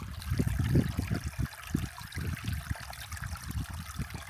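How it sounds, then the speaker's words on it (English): A babbling brook on a hike, water trickling and gurgling continuously over stones, a close, steady burbling wash without voices. "Another babbling brook, let's go."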